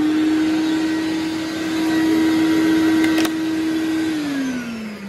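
A Max XT sander with a faulty switch runs continuously whether set on or off, giving a steady, loud, close motor whine that holds for several seconds and then dips slightly in pitch near the end.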